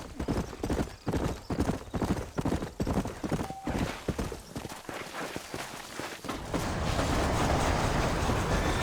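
Horses trot in Red Dead Redemption, their hooves clip-clopping in a steady, brisk rhythm on a hard path alongside cart creaks and a brief whinny, before giving way to a louder wash of noise.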